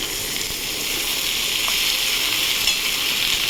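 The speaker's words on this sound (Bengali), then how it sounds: "টমেটোটা ভেজে নেব।" Onion and tomato frying in a pan for a chicken dish, a steady close hiss of sizzling oil that stays loud and even throughout, with no voices.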